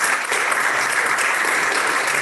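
Steady, even applause from an audience at a hospital intern information session fills the moment, close and sustained without pause.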